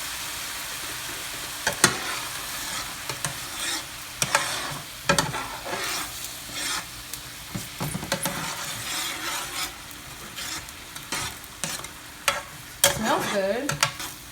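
Tuscan shrimp sauce with white wine simmers and sizzles steadily in a pan, with a spoon stirring and scraping now and then, close up and under no talking.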